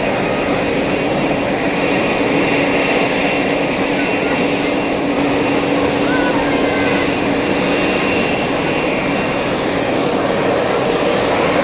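Airbus A330 airliner at Zurich Airport: a steady, loud broadband engine roar with a faint tonal whine, continuous and close throughout, with no talk over it.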